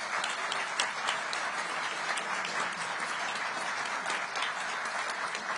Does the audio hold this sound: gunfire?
no